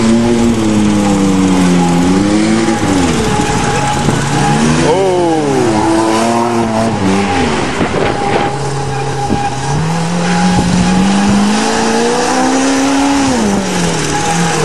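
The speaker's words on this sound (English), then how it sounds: "Donuts in a motorhome." A motorhome's four-barrel carbureted engine revs hard while doing donuts, its pitch rising and falling continuously under steady loud tire and wind noise, close and relentless throughout.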